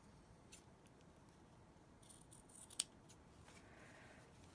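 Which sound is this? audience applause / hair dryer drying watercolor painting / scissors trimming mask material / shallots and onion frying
scissors trimming mask material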